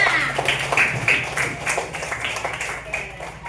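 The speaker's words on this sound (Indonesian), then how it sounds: "kasih tepuk tangan buat Rania" Pupils clap for a classmate in a classroom, a short scattered burst of hand claps with a voice or two mixed in, steady over a few seconds.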